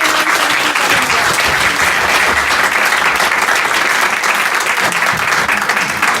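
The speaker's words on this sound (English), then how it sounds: "So can we just give a round of applause for Andy and" An audience at a meeting of group reps with Andy Burnham gives a round of applause, steady and dense clapping filling the room for about six seconds without pause.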